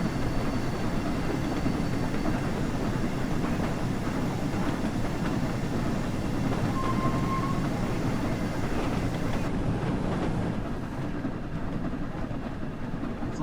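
The Flying Scotsman steam locomotive runs at speed on the West Somerset Railway in a train simulator game, a steady continuous rumble and rail roar with faint clickety-clack, unbroken from start to finish.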